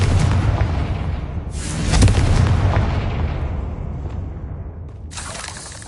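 A Confringo blasting spell explodes in a Harry Potter video game, a loud, deep boom that swells, rumbles and slowly fades, followed by a sharp burst of noise near the end.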